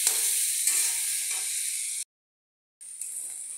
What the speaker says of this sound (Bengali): আমি ভাজা ভাজা করে নেব।